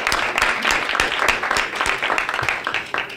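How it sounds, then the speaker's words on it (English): Audience at a school board swearing-in ceremony applauds a board member, with dense, moderately loud clapping from a roomful of people running steadily for the whole stretch. "let's give Mr. Baker another round of applause"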